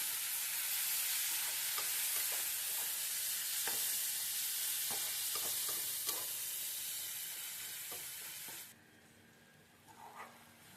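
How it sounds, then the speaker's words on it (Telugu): Onion and tomato frying in a pan for a Nellore-style dried anchovy curry, with a steady hissing sizzle and scattered spatula stirring clicks. The sizzle drops off sharply near the end, leaving quieter clatter. "ఇప్పుడు కొంచెం ఆల్రెడీ ఆనియన్ మగ్గింది, టమాటో వేసుకోవాలి"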